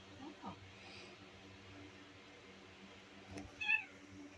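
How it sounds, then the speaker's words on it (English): A young cat gives a couple of faint meows, a soft one near the start and a clearer, higher cry near the end, over a quiet indoor background. "It's a little demon kitty."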